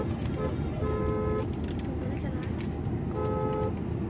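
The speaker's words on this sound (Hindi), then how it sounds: "और ये ट्रक वाले भाई साहब को मैं इंतज़ार करूँगा, लेकिन इनको हॉर्न दूँगा, पहले मैं जाऊँगा।" Car horn honking at a truck on a highway: two short tooted horn blasts over steady loud road and engine noise inside a moving vehicle.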